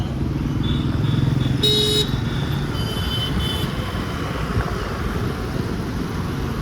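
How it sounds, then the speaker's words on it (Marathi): A Hero Splendor motorcycle engine running nearby, a steady low idling rumble with a brief high tone and faint traffic noise in the background, no talking. "या माझी गाडी स्प्लेंडर."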